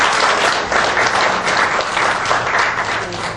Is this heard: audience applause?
yes